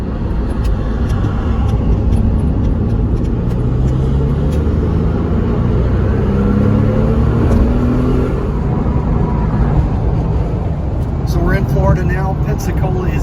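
Porsche 911 996 pulls away and drives on a road, its engine and tyre roar a loud, continuous low rumble inside the car, with faint speech and higher whirring near the end.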